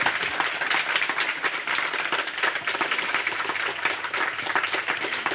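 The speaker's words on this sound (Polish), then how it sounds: "Brawa." Audience applause at a book festival author talk, a lively, sustained burst of many hands clapping with no talk over it.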